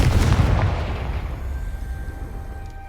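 A Confringo spell explosion in the video game Hogwarts Legacy, one loud, close, deep blast that rolls out and fades over a few seconds.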